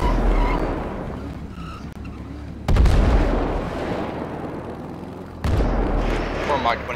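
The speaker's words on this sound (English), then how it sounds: "we got at least two explosions" Booming explosions in the game FiveM cut in twice, sudden and loud, over a steady engine rumble while players talk excitedly.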